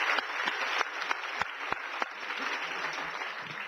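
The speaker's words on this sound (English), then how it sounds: "could we just give a big round of applause to our panellists" An audience at a health-inequalities panel event claps for the panellists, a fairly soft, steady patter of applause from a modest crowd with a few sharper individual claps standing out.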